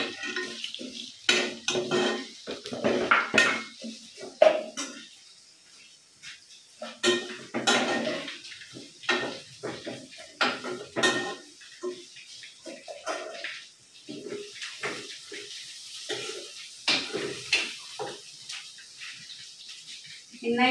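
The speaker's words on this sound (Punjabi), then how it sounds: "ਘਿਓ ਆਪਣਾ ਗਰਮ ਹੋ ਗਿਆ ਫੁੱਲ, ਸੇਵੀਆਂ ਪਾ ਕੇ ਇਹਨਾਂ ਨੂੰ ਬਰਾਊਨ ਕਰ ਲਾਂਗੇ।" Vermicelli browning in hot ghee in a pan, heard as a run of close metal scrapes and clinks from stirring over a soft frying hiss, with uneven bursts and brief pauses and no voices.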